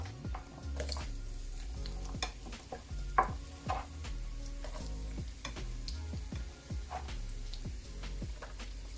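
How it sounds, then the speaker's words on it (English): Onions and garlic sizzle and fry steadily in a pan for Jamaican ackee and saltfish, with frequent stirring scrapes and utensil clinks over a continuous close hiss. "We're gonna fry up the onions and garlic."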